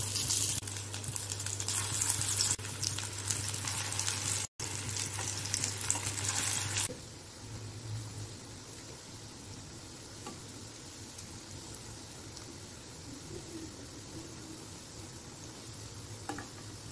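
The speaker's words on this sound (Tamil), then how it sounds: "இப்போ இது எல்லாத்தையும் பொறிச்சு எடுத்துக்கலாம்." Beetroot kola balls deep frying in hot oil, a steady loud sizzle and crackle for the first seven seconds, then dropping to a quieter, softer bubbling hiss.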